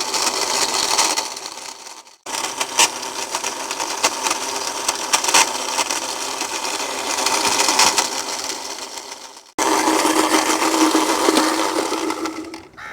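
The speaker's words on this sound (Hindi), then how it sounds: "उसके बाद हम डालेंगे इसमें रूह अफ़ज़ा को चलाना है और इसको अच्छे तरीके से आपने बीट करना है" An electric mixer whirs while beating a Rooh Afza drink, a loud steady motor drone that stops briefly twice and starts again.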